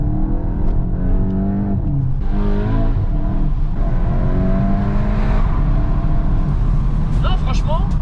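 A Volkswagen Golf 8 GTI with 245 hp, driven in sport mode, pulls hard with a loud, rising engine drone that climbs through the gears while people talk over it inside the cabin.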